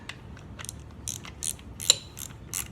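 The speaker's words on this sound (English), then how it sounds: "we're just going to snug up the bolts" Ratchet wrench clicking in short bursts while snugging up timing cover bolts on a Perkins 152 engine, close and crisp with brief pauses between strokes.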